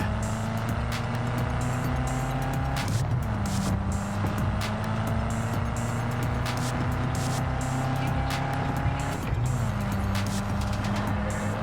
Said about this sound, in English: Now I'm driving a Mustang.